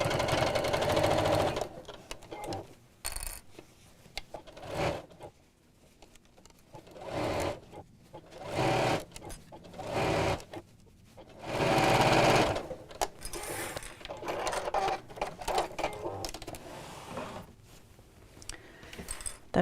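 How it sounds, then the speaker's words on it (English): Sewing machine stitching a drawstring box bag from the inside in bursts of steady whirring, close and fairly loud, with brief pauses between runs. "Otherwise, just sew from the inside like this."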